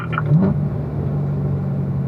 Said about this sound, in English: Squeezing into the throttle here